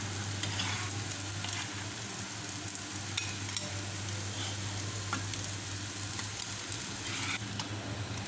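Mutton kababs frying golden brown in a pan give off a continuous, even sizzle and crackle throughout, with occasional small spatters and no voices.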